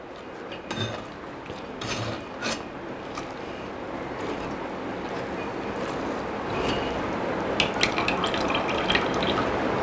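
Water pours and splashes steadily while strained chenna for kalakand is rinsed to wash out its sourness, a continuous broadband rush with a few louder drips and splatters, close by and with no one speaking.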